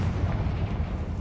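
A Confringo blasting curse goes off in Hogwarts Legacy, a dense, rumbling low-end blast that stays loud and roiling for about a second with no talk over it.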